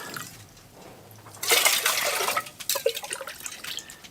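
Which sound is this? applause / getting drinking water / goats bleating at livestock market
getting drinking water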